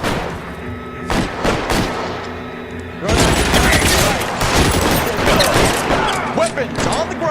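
Heavy gunfire from a machine gun in the video game LA Noire, with bursts of rapid shots that swell into a loud, dense volley midway and keep going, and speech mixed in.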